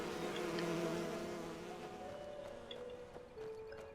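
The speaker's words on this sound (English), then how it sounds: "I can take all the bees." Bees buzz steadily in the Enderal video game world, a close, continuous droning hum with slight wavering pitch that holds for several seconds without speech.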